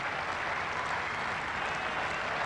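Steady applause from a cricket crowd at a Sri Lanka versus England Test at the SSC ground in Colombo, greeting a batsman's half century, a dense continuous clapping wash held at an even level throughout.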